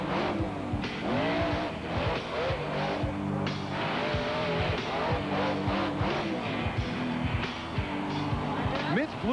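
A 2-wheel-drive monster truck engine roars and revs in bursts during a freestyle run at a West Texas Monster Jam event, under a commentator's voice and crowd noise.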